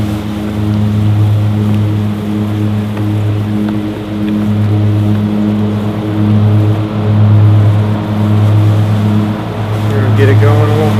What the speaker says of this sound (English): every time I do a video outside, which is only my second time, somebody decides to cut their yard.